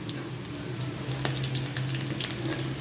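Ginger sautéing in a pan while mussel tinola is cooked, giving a soft steady sizzle with a few faint clicks from the pan.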